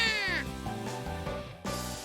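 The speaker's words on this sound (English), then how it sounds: "Lured by the sound of our voice, the black cat pops up out of nowhere." A black cat meows in the visual novel Grisaia no Kajitsu, one clear close meow with gliding pitch at the start, under background music.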